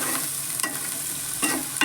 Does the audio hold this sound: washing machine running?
no